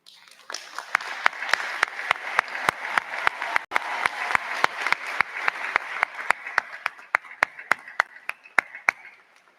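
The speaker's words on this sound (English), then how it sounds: "All cum laude students, please stand now and be recognized so that we may applaud your" A commencement audience applauds cum laude graduates at a high school ceremony, with sharp individual claps rising into sustained clapping from a crowd, heard close and fairly loud throughout.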